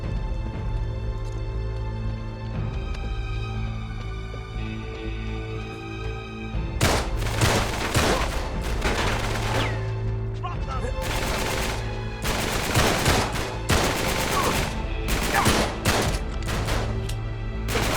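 Rapid gunfire bursts from the Pistolet in the Uncharted 3 video game, a fast double-shot handgun, crackle loudly in clustered volleys over a steady game background drone.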